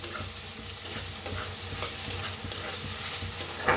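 Chopped tomato and onion roasting in a pan for a vegetable dish, with a steady sizzle and frequent scraping stirs that make soft, rhythmic clacks against the pan.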